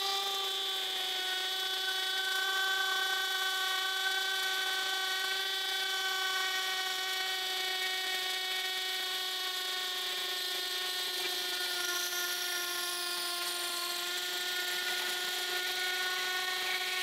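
A Miyota D8216c cordless impact drill bores a 10 mm hole in concrete in hammer mode, a steady, loud, continuous whine with a constant tone and no pauses, close up and alone.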